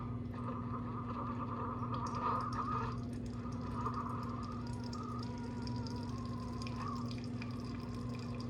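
A Keurig coffee maker pumps and dispenses extra-hot water in a steady, quiet trickling stream over a low continuous motor hum, with no voices.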